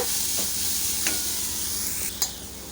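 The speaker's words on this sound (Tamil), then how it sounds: "இப்போ உப்பையும் சேர்த்துட்டு இன்னும் ஒரு ஒரு நிமிஷத்துக்கு மட்டும் சேர்த்து கலந்தாலே போதும் நல்லா கலந்து விட்டுக்கோங்க" Onions are stirred in a pan with salt while they sauté for ragi semiya, giving a steady soft sizzle with a few light spoon scrapes against the pan, close and alone.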